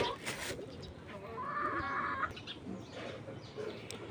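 Chickens cluck and murmur softly in the background, with a few brief calls and faint rustling, fairly quiet and close.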